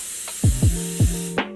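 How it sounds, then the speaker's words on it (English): Cooking spray mists onto a baking pan for homemade cinnamon rolls, a steady close hiss lasting over a second, with a few soft knocks and clicks from the can and pan. "put them all cut side up and spray your pan"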